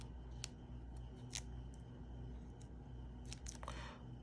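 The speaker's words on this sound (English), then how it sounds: "I'm gonna trim those points down" Scissors trim the points off a paper die-cut, giving a handful of sharp, scattered snips spread over a few seconds, faint and close against a low room hum.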